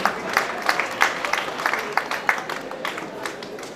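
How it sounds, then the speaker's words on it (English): Audience at a live debate event breaking into applause: dense, fast clapping from a crowd, loud and sustained, slowly thinning toward the end. "So clap for him."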